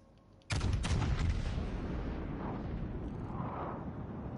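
Warship guns fire in the World of Warships: Legends naval battle game: a sudden loud boom opens with a few quick blasts, then a long rumbling roar and crackling debris that fades slowly, with no talking.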